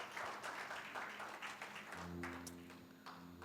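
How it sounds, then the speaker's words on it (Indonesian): Congregation applause at an Indonesian Sunday church service, clapping spread through the room for about two seconds before thinning out as a held musical tone comes in underneath. "Boleh tepuk tangan yang meriah bagi Tuhan Yesus."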